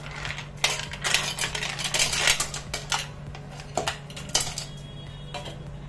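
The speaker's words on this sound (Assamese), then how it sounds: "ইয়াতে দিছো বৰফ" Ice cubes clatter and clink into a hard mixer jar for raw mango sharbat, a burst of sharp knocks and rattles over several seconds.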